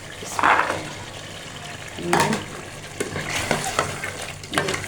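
Peas frying in a pot for degi-style mutton and peas, giving a steady low sizzle with a few louder stirring bursts and scrapes, up close and without talk.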